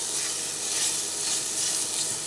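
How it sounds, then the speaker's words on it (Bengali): Beetroot cutlet mixture with chaat masala sizzles and frying in a pan as it is stirred, a steady close hiss with soft scraping running throughout, no voices. "একটু ভালোভাবে আবার নেড়ে চেড়ে নিচ্ছি"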